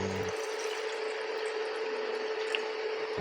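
Water pours steadily into a pot, a continuous close splashing rush that carries on without a break.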